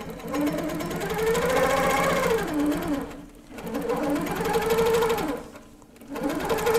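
A quilting sewing machine on a Little Foot frame runs long stitches across a quilt, a fast mechanical whirring that surges and briefly stops twice, close and alone without talk.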